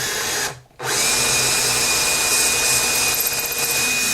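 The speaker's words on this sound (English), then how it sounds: "You've got to let that drill bit go in there and find the path of the previous hole," A hand-held power drill bores through the bridge holes of a Martin D-35 acoustic guitar, a steady close, high-pitched whine that cuts out briefly near the start, then runs on without any talking.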